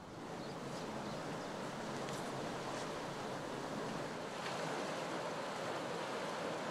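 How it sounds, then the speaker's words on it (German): Treated water from the Gümmerwald sewage plant pours into the Leine river, a steady broadband rushing and splashing outdoors with some wind noise, fairly faint and without voices. "Und hier an dieser Stelle kommt das gereinigte Wasser aus dem Klärwerk Gümmerwald nach ungefähr 24 Stunden wieder heraus."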